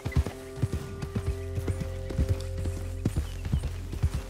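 Hooves clip-clop at a quick, steady pace as a racehorse gallops in Red Dead Redemption 2, each footfall crisp and close against a low, constant rumble with no talk.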